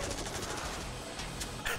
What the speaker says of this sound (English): That kid ran out in the gunfire for that?